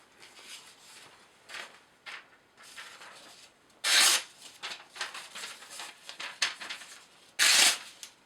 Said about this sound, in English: Let me steel this edge and see what we have. See what we can do after we run it on a ceramic.